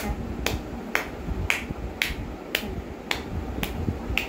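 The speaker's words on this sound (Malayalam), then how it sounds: "കൈ ക്ലാപ്പ് ചെയ്ത്." Children in a kindergarten class clap their hands together, eight sharp claps at a steady, roughly half-second beat over a busy room background.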